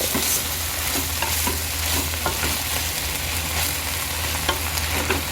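Chicken pastil filling sizzles loudly in a pan as it is stirred continuously, with scraping and light clinking of the utensil throughout, close up and with no voices.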